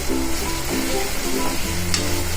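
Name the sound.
chopped onions sautéing in a pan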